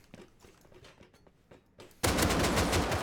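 A burst of AK rifle fire in a video game erupts after quiet rustling, a loud, dense rapid automatic stream close to the listener.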